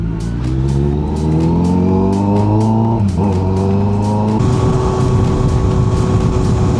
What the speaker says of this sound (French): Alors la moto, elle fait du bruit. Mais en plus de ça, j'entends le bruit de ma moto dans mon casque.